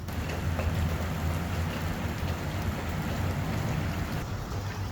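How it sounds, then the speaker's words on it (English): Rain begins to fall in a steady, soft hiss of drops, an even wash of sound throughout with no voices. "the rain has begun."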